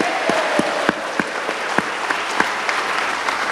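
A seminar audience gives sustained applause at a sales training event, a dense steady wash of clapping with sharper individual claps standing out, no talking over it.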